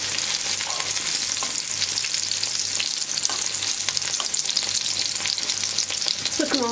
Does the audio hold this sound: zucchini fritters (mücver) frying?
yes